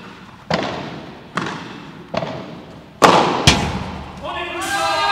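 Padel ball struck during a serve and rally at a French national team training camp, producing sharp, separated impact pops roughly every second, with echoing reverb and a voice commenting near the end.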